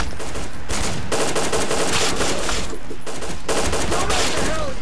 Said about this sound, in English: Stop shooting me, you felon.